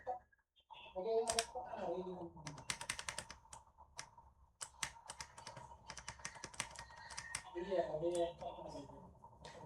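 Computer keyboard keys are tapped in irregular clusters of sharp clicks, with a run of repeated presses in the middle, while someone talks over the start and end of the typing.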